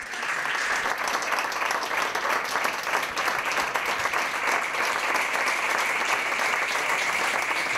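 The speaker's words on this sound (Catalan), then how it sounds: "Fort aplaudiment per la Débora SL." An audience at a comedy monologue contest applauds loudly, a dense, steady wash of clapping that holds at full strength throughout, with no one speaking over it.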